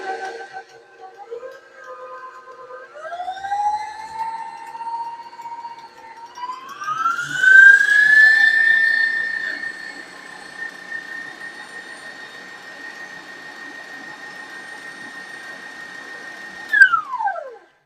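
An electric mixer starts on slow and ramps up, whirring steadily as it beats a no-bake chocolate cream pie filling, a close rising motor whine that holds level before winding down at the end.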